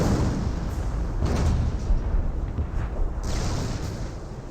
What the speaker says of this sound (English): Hear more explosions.